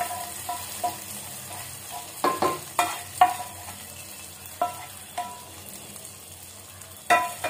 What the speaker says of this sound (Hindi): इसमें मैंने जो भी राई और जीरा सब डाला था ना, सब तड़कने लगा है।